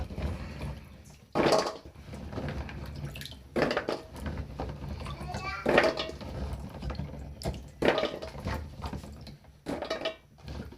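Tap water runs over freshly harvested pili nuts being rinsed in a sink, a steady splashing flow broken by louder bursts as the nuts are stirred and handled, with no talk.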